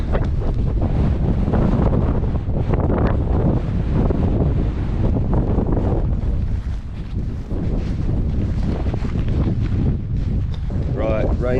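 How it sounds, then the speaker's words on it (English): Gale-force wind on a Welsh mountainside roars and buffets the microphone nonstop, a loud, dense rumble that barely eases, with a voice faintly buried beneath it. "it's blowing a gale up here at the moment"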